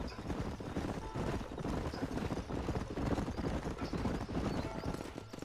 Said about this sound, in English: leave the horses here and follow me